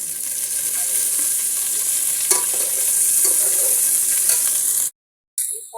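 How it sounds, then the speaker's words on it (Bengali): Onion and ginger-garlic paste frying with cardamom, cinnamon and bay leaves for pulao, a loud, dense, continuous hiss with occasional stirring scrapes, cut off abruptly near the end. "পেঁয়াজ এবং আদা রসুন বাটাটাকে আমি সুন্দর করে ভেজে নিচ্ছি"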